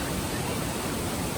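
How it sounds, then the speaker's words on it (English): A tropical North Queensland waterfall near Cairns roars as a dense, constant broadband rush, loud and close, with no breaks. "the waterfall was definitely worth the look"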